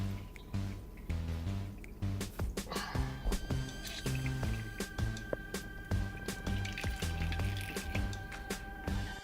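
Homemade coconut milk strained and squeezed through a dishcloth, with irregular wet drips and soft squishing pulses, close up and fairly quiet, and no talking.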